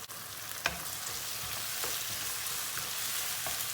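A spoonful of tomato paste and chopped tomatoes fry in a pan, producing a steady moderate sizzle with a few soft stirring clicks and scrapes.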